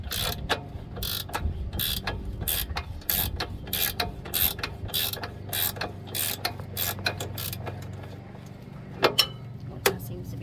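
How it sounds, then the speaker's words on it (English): A ratchet clicks in quick repeated strokes as a lock nut is tightened on a Pioneer Nevada 125 motorcycle during a chain and sprocket change, sharp close ticks with a faint low hum underneath and a few louder clanks near the end. "And you can ratchet it in."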